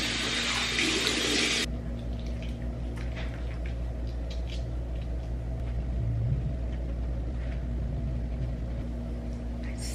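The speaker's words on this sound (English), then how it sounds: "time to wash my face" Tap water runs steadily into a bathroom sink while someone washes their face during a morning routine, with a continuous close rush of water throughout and no talking.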